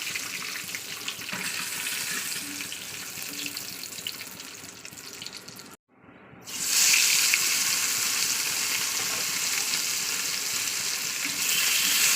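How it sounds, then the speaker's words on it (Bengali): Catla fish fries in mustard oil in a pan, giving a dense, steady sizzling hiss that breaks off briefly near the middle and then returns louder and brighter, close and continuous with no voices. "আমি সর্ষের তেলেই মাছটা ভাজা করি"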